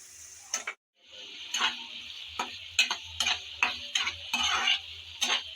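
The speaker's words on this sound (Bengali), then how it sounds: "আমি নেড়ে চেড়ে চিংড়ি মাছ বেজে নিচ্ছি" Prawns sizzle in mustard oil while a utensil stirs and scrapes the pan in a run of sharp, regular clicks over a faint, steady frying hiss.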